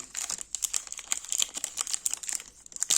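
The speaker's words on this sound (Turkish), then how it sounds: "Şöyle paketimizi açalım. Şöyle paketinden çıkardık." A peanut bar wrapper is torn open and crinkled close up. The plastic makes quiet, rapid crackling and rustling bursts that continue throughout.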